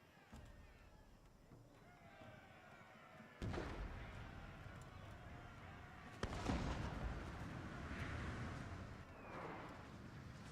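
Wooden cannons fire in the samurai-era strategy game Total War: Fall of the Samurai, two heavy booming blasts a few seconds apart over a continuous rumbling battle din, fairly loud.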